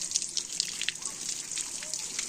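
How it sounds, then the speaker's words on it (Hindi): Water pours and trickles steadily onto garden plants on a summer evening, a continuous close splashing wash with scattered drips throughout. "देख सकते हो सारे प्लांट को मैं पानी डाल रही हूँ"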